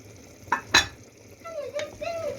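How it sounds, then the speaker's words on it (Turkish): Short scraping clinks of a utensil stirring eggplant meatballs in a frying pan, two sharp strokes followed by faint sizzling and a soft voice in the background. "şöyle köftelerimizi bir güzel karıştıralım"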